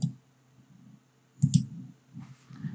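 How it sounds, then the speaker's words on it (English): Computer mouse clicks at a desk, a few soft, close taps, one clear double click, then quiet handling noise. "I'm going to right-click and exit the sketch."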